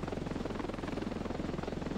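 A helicopter flies in the video game Ravenfield, its rotor beating in a fast, even chop over a low engine drone. The sound is continuous and fairly close.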